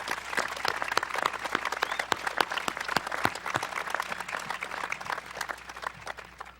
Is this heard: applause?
yes